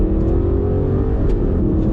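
An Aston Martin Vantage N430 engine sounds loud and close, a dense low mechanical drone with a rising whirring tone as the revs climb over two seconds, with no one talking.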